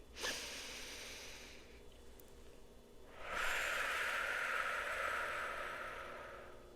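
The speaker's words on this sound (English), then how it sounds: "Take one deep breath." One slow, deep breath, a soft airy inhale and then a longer, louder exhale, close and otherwise alone in a quiet room.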